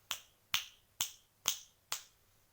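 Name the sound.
finger snapping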